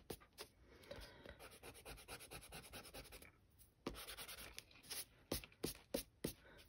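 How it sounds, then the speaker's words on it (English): Pencil eraser rubbing back and forth on paper while a head shape is corrected in a self-portrait drawing, a close, quiet run of short scratchy strokes with brief pauses and a few sharper rubs near the end. "I'm going to erase that"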